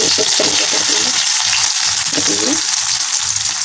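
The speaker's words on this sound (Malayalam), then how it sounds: "നന്നായിട്ട് തിളച്ച് വന്നിട്ട് കടകൾ കൊടുക്കുന്നുണ്ട് കേട്ടോ കടുക് പൊട്ടിയപ്പോൾ വെളുത്തുള്ളിയും ചെറിയ കാച്ചിട്ട് കൊടുക്കണം" Mustard seeds and garlic sizzle and pop steadily in hot oil in a pan, a loud, continuous frying crackle with faint stirring underneath.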